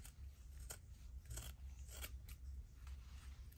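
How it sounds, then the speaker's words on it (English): Scissors trim paper for a travel journal, a series of quiet close snips at uneven intervals over a low, steady room hum. "Just maybe trim it down a little bit further."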